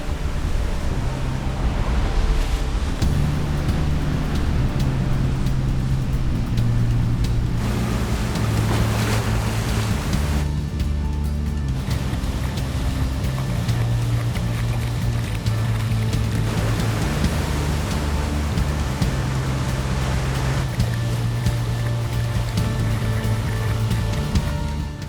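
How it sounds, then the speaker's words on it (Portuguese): The Pororoca, a tidal bore wave surging up a river, makes a continuous loud roar of rushing water that holds steady throughout, with a tonal drone running underneath. "A onda perfeita, num lugar totalmente inusitado."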